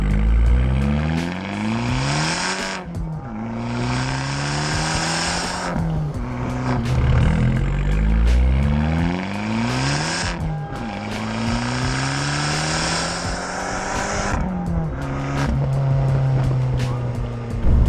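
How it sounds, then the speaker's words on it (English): An Abarth 595 hatchback's quad exhaust roars through repeated hard accelerations, pitch climbing through each gear and dropping at shifts, loud and close. "Phenomenal exhaust note."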